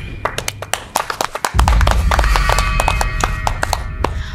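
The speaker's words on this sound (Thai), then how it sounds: "ปรบมือสิคะ" A few people clap sharply and unevenly at first, then a thick burst of continuous applause swells in and holds at close range.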